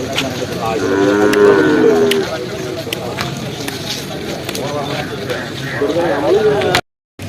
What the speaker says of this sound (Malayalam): പോത്തും കന്നാലാണ് ഈ സൈഡിൽ നിൽക്കണ്